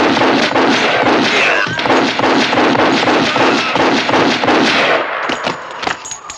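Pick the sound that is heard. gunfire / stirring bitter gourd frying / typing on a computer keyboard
gunfire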